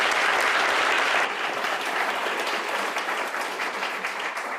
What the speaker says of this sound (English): All right, a round of applause for the Commissioner.